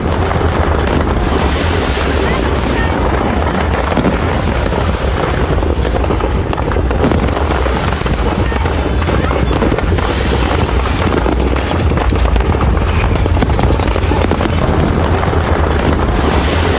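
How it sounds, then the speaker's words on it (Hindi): Firecrackers burst continuously at a political celebration in Kolkata, a dense, loud, unbroken crackle and rumble layered over crowd noise, with no clear gaps between bursts. "जमकर पटाखे चलाते"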